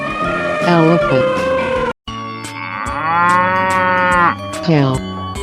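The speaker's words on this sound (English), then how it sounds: "Cow." A cartoon cow from a children's animal slide game gives long, loud, drawn-out moos, two sustained calls separated by a brief gap, with a short cheerful vocal phrase near the end.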